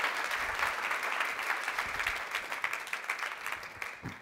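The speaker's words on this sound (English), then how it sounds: "Please, a round of applause for Dr." Audience applauding at the opening ceremony of the 10th TEPHINET Global Scientific Conference: a steady wash of many hands clapping in a hall, fairly far off and moderately loud, thinning slightly toward the end.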